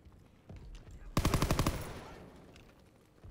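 A rapid burst of automatic World War II weapon fire in the Call of Duty WWII campaign, about ten sharp shots in quick succession with a fading tail, fairly close and alone.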